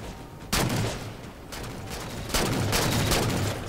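Gunfire in the video game Halo 4, loud shots cracking out in a few close bursts over dense, continuous battle noise, with no talk.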